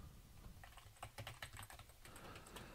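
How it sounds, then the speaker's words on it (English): Quick bursts of clicking keystrokes on a computer keyboard, irregular and close, clustered in the middle of the stretch with a quieter hum before and after. "I'm just going to type in a simple alert message so that we can see if this is working"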